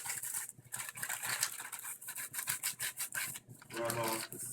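Wadded yellow pages paper rubs hard back and forth over an etched zinc printing plate, making close, rhythmic, raspy scrubbing strokes with brief gaps between bursts.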